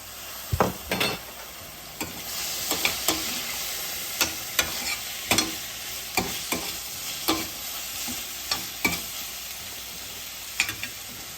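Minced garlic sizzles hard in a frying pan, a constant loud hiss of hot oil. A spatula clicks and scrapes against the pan every second or so, and no one speaks.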